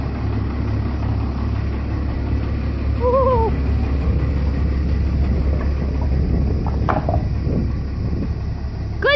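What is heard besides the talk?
Dodge Cummins D250 engine running with a fabricated exhaust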